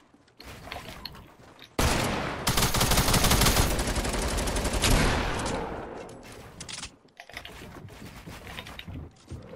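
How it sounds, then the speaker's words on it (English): Sniper rifle fire in a video game: a dense burst of loud gunfire after a short quiet start, followed by sparse mechanical clicks and softer shots. "I'm hitting so many no-scopes with this gun"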